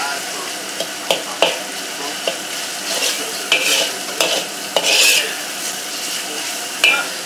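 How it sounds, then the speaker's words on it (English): Pancetta stirring and sizzling in a pan for a heavily peppered carbonara, a steady frying hiss broken by repeated sharp scrapes and clacks of the utensil, close and fairly loud, with no talk. "Slowly cook it nicely, turning into some kind of grilled pancetta."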